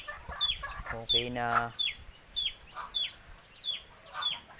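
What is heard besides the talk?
chickens clucking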